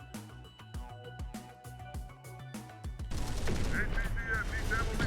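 Rapid bursts of video-game gunfire from Terminator: Dark Fate - Defiance, a string of sharp repeated shots at first, then denser, continuous automatic fire with electronic tones layered over it.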